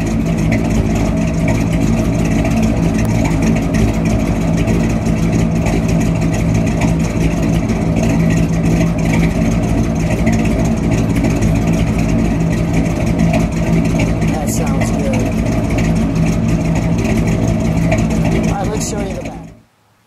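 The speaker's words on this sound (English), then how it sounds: "Let me just listen to it idle for a minute." A 1964 Chevrolet Impala SS with a 409 V8 idles loudly and steadily up close, a deep rumbling drone that holds for about nineteen seconds before cutting off abruptly.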